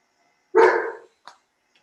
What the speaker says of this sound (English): my dog's yelling.